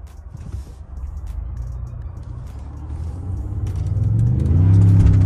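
A Ford F-150 pickup pulls away from a standstill, its engine rumble building into a louder rising roar as it accelerates, heard from inside the cab with no talking.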